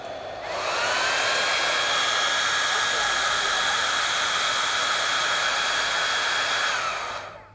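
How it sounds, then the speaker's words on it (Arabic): A hair dryer runs steadily close by beside a baby to help it sleep, a loud continuous airy whir that starts abruptly, holds level for about seven seconds, then cuts off, with no voices over it. "هتشغلي له الاستشوار"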